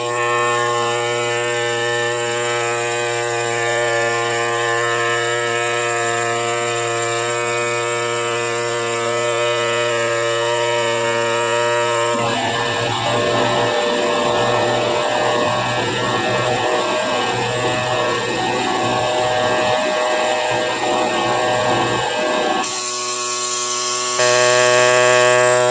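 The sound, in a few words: sharpened stylus smoothing fossil crab matrix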